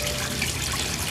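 A small waterfall pours into a koi pond, a dense, continuous splashing rush of water up close, steady for the whole moment with no voices.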